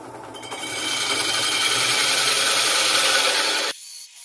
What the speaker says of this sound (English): And I just drill this until it comes out.